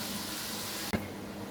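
Water splashes steadily into a cooking pot of browned chicken and tomatoes, a continuous close pouring hiss with a brief break near the end before the stream resumes.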